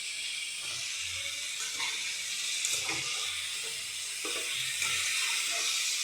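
Water goes into a pan of spiced potol curry, producing a continuous hissing rush that steams and sizzles at a steady level, with faint scrapes beneath it.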